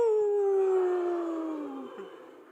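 A voice imitates a dog howl in a church worship setting, one long loud sliding howl that starts high and glides downward, fading toward the end with no talk over it.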